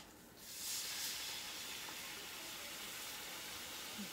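Butter and a soy sauce packet sizzling in a pan on a home stove, a steady hiss that rises just after the start and holds at an even, moderate level.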